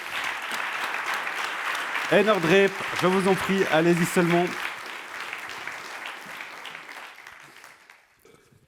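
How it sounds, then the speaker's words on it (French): Audience applause at the Trophée Perle awards ceremony, steady clapping from a crowd throughout, with a voice speaking over it midway before the clapping fades out. "On peut encore applaudir pour ce Trophée Perle."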